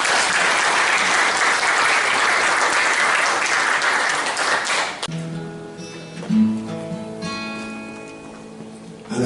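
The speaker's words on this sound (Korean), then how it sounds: "박수로 맞이하겠습니다." Audience applause fills a Korean economic seminar hall to welcome a live music-sketch performer, loud, dense clapping for about five seconds before cutting off, followed by soft room sounds and faint tones.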